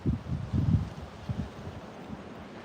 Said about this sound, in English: And it gets quite windy here.